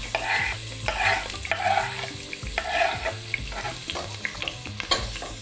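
Onion frying in olive oil in a pan, a soft steady sizzle broken by repeated scraping and stirring strokes, heard up close with no one talking.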